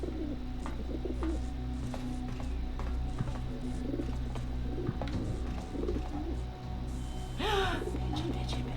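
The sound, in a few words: pigeons cooing in the video game Talos Principle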